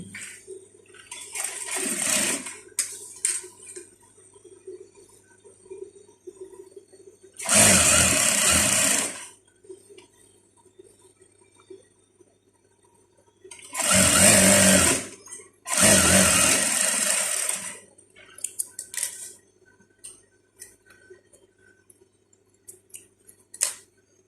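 A sewing machine stitches trouser legs in short loud bursts of rapid mechanical whirring, four main runs of a few seconds each separated by quiet pauses filled with faint handling clicks and rustles.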